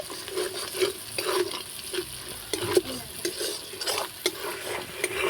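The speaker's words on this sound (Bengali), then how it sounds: "আর একটুখানি নাড়াচাড়া করে কষিয়ে নেব" Green peas being stirred and sautéed in spiced oil in a pan for a matar curry, a rhythmic series of spoon scrapes and stirring strokes over a soft, continuous sizzle, close and fairly loud.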